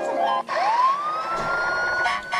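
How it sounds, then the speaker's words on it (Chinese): A fire truck siren from a Disney Mickey video game wails in a rising, sliding tone that then holds steady. It plays loud and close for about two seconds, with no talk over it. "米奇消防车 ，Go Go Go Go Go Go Go Go Go Go"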